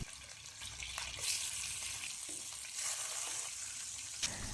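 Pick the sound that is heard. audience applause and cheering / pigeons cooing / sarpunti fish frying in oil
sarpunti fish frying in oil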